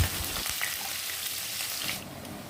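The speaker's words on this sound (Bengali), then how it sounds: "হালকা লালচে করে ভেজে নেওয়া হয়ে গেছে" Thinly sliced onions frying in oil for chicken do pyaza, a close, steady hiss with faint stirring, continuous and even before easing slightly at the end, with no voices.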